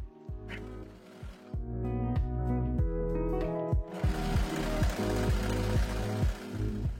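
A sewing machine serging or zigzag stitching a sleeve seam: a rapid mechanical chatter with a steady stitching rhythm that speeds up and holds, close and moderately loud, with no talking.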